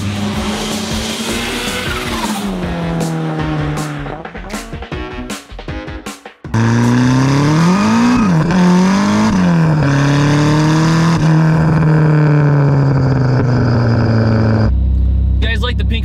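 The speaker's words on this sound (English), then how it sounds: "So what's it like driving a built S15 on the street in the United States?" Built Nissan Silvia S15 drift car driven on a street in the United States, engine loud and close, revving up and down through gear changes with a brief lift and pause midway, a voice speaking over it.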